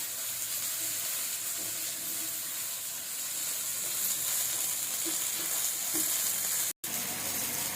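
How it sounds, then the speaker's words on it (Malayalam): Steady sizzling and crackling of eggplant frying in hot oil, a dense hiss that continues almost unbroken, with a brief dropout near the end. "നന്നായി ഫ്രൈ ആയി കഴിഞ്ഞു"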